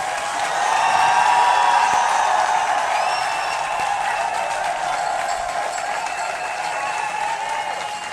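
A large crowd at a Cojep political gathering claps steadily and loudly throughout, with whistles and shouts mixed into the continuous wash of applause.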